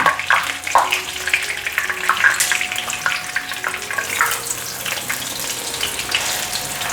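Fish pan-fries, sizzling and crackling in hot oil, with scattered pops and a light clink or two, close and continuous.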